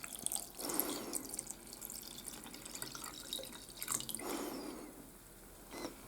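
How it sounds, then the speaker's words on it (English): Water is poured onto rice in a yogurt maker, making soft splashing and trickling with drips, in uneven bursts that rise and fall, close and fairly quiet. "So I put the rice, then I pour water"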